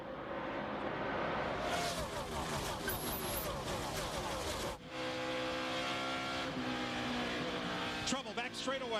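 NASCAR Nextel Cup cars racing at Atlanta Motor Speedway in the 2005 Golden Corral 500, a loud dense roar of many engines with a brief dip mid-clip, commentary voices running over the noise.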